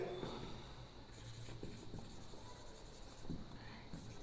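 Chalk or marker writing on a board in a maths lesson, faint scratchy strokes in short bursts over a quiet room hiss.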